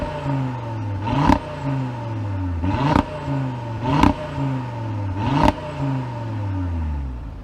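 A 2026 Audi RS3 engine with its sport exhaust system revs hard in four sharp, evenly spaced blips, each pitch climbing and then falling away. It sounds loud and close, and no voices are heard.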